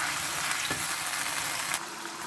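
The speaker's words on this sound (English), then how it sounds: "Give that a stir." Food frying in a pan as light soy sauce is stirred in, a dense continuous sizzle with stirring clatter, close and loud, no voices.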